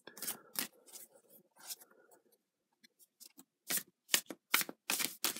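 Tarot cards from a Light Seer's Tarot deck are shuffled and drawn up close, with a run of soft papery riffles, a pause, then several crisp card snaps and slides.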